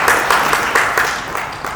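Loud applause from an audience at a business meetup, with a few sharp clap bursts standing out over a steady wash of clapping, close and continuous.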